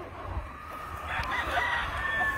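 Roosters crowing at a fighting-rooster breeding farm, one nearby crow rising over a low background murmur of other birds and farm noise.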